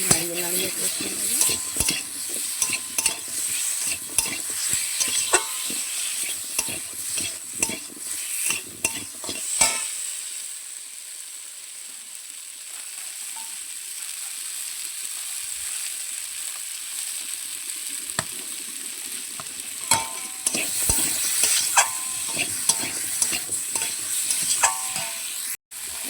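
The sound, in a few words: stirring and frying potatoes in a pan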